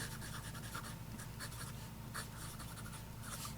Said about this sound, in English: let's go ahead and do a writing sample, and let's just go put pen to paper